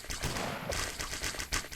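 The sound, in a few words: hand cannons firing in video game Colony Survival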